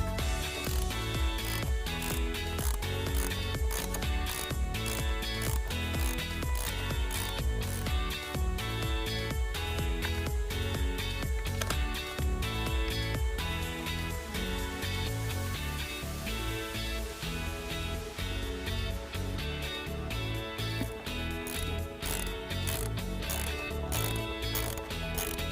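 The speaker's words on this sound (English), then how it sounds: "I'm going to use a 13mm socket to loosen this here." A ratchet fitted with a 13mm socket loosens a bolt during trailer wiring installation on a 2014 Buick Verano, giving steady, close, rapid clicking that continues throughout.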